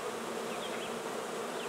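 Honey bees bred in Alberta buzz densely around a heavily populated hive in early July, a steady close hum with individual bees whining past, no voices.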